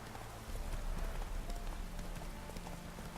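Horse hooves clip-clopping in The Witcher 3 video game: steady hoofbeats over a dense, busy game soundscape, moderately loud and continuous.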